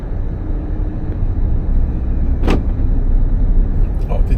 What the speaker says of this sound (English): That was the automatic door lock.